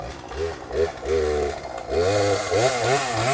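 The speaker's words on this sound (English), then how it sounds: "Then I got 3 chainsaws down here." A chainsaw at the base of a tall tree runs with its engine note rising and falling as it is revved, loud and close, with a voice partly mixed in.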